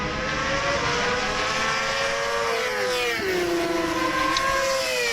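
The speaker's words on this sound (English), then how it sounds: "my first attempt at racing the bike" Kawasaki ZX-6R race motorcycle at a WERA practice session at Road Atlanta, with a transmission fault that would not hold third gear. Loud, sustained engine whine rises and falls in pitch through gear changes.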